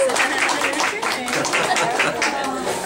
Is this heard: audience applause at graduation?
yes